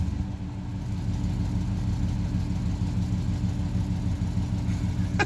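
A GM truck engine with an oil cooler quick-connect failure runs rough, a steady low idle rumble heard close and alone throughout.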